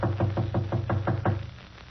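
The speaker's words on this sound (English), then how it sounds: "I'll knock again." Knuckles rap on an apartment door in a quick, even run of about seven knocks that trail off, clear and alone in a quiet hallway.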